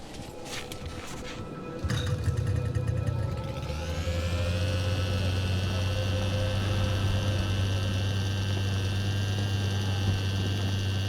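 Snowmobile engine in the video game Kona, starting up after a few clicks and then settling into a steady, loud whining drone with a low rumble that holds unbroken and close throughout.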